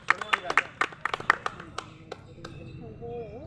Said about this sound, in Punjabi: ਜ਼ੋਰਦਾਰ ਤਾੜੀਆਂ ਹੋ ਜਾਣ